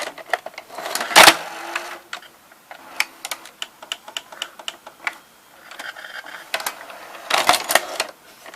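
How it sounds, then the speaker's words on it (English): A Zenith VRS-60 VCR's half-loading mechanism gives off a series of sharp mechanical clicks and ticks, scattered and irregular, with a few louder bursts near the start and end; no one talks. "It makes one clicking noise. And this one makes 3 clicking noises."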